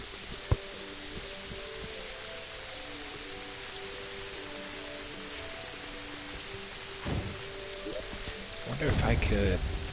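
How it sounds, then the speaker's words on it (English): Steady hiss of rain in the game Terraria fills the background, faint and constant, with a few tonal game-like sounds and a brief rumble near the end. "Because the rain is just too damn loud in this game."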